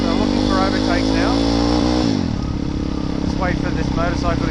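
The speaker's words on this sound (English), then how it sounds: "Just wait for this motorcycle to go past" A KTM 390 motorcycle passes close by in road traffic, its loud engine whine dropping sharply in pitch as it goes past, over the steady drone of another motorcycle's engine.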